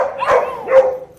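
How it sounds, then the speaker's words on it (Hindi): A Rottweiler gives two loud, close barks in quick succession, each a full, slightly drawn-out woof with a brief whine-like tail, and no talking. "चिंकी को निकाले तो एक परेशानी, ना निकाले तो ये भौंक भौंक के कुछ परेशानी कर देती है।"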